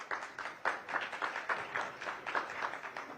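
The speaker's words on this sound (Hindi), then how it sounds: "जोरदार तालियों से उनका स्वागत।" An audience gives a rhythmic round of clapping to welcome Bihar's deputy chief minister and home minister Samrat Choudhary, moderately loud and fairly steady, with claps bunching in regular pulses.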